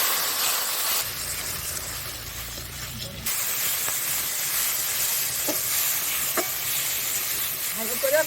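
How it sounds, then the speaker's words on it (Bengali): Spice paste fries in a pan with a little water for a Turkey egg curry, giving a steady broad hiss and sizzle throughout, briefly dampened and then returning, with a few faint clinks. "অল্প একটু জল নিয়ে মশলাটাকে কষিয়ে"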